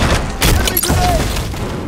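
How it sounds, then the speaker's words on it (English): An enemy grenade goes off during Halo 5 ranked Slayer multiplayer, a loud booming burst amid continuous gunfire and game effects, with brief thuds over about two seconds. "Enemy grenade!"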